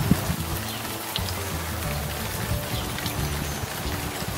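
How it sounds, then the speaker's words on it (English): Steady rain falls outdoors as a dense, even hiss of drops and patter with no pauses, loud and close throughout. "gonna feel the rain, man."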